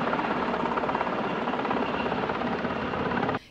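A continuous, dense gendarmerie helicopter roar during a rescue operation in İskenderun holds steady and loud, then cuts off abruptly near the end.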